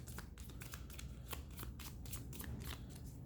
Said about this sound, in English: So, shuffle up the cards.